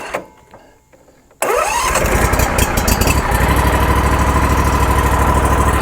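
A Simplicity Courier XT zero-turn mower engine cranks briefly and catches, jumping from near quiet to a loud, steady idle close by.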